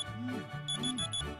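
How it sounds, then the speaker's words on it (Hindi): An alarm clock rings again with a steady, repeating electronic tone pattern, moderately quiet and with no voices over it. "मेरा अलार्म दोबारा बजा"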